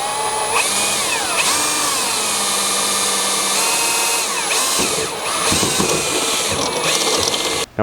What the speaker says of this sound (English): as your drill bit protrudes through.